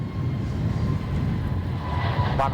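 A Jetstar airliner takes off from Melbourne Airport, its engines a steady, loud broadband roar heard at a distance without any break.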